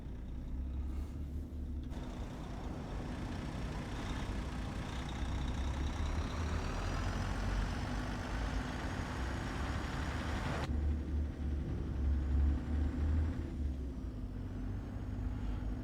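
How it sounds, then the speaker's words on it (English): A video game truck engine drones at a low steady idle-like hum while driving, fairly quiet, with a broad rushing hiss swelling over it in the middle before fading back. "The truck does sound quite quiet."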